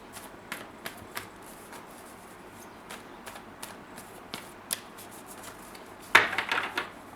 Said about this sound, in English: I hope I shuffled well. No. Let me shuffle again.